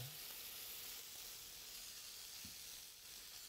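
A steady, bright sizzle of lemon juice poured over pork loin in a hot frying pan, hissing evenly and up close without any talking.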